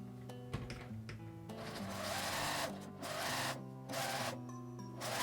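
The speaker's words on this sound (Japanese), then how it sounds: "端ミシンをかけました。" A sewing machine stitches along the edge of fabric for a small cosmetic tote bag, whirring steadily in several close bursts separated by short pauses.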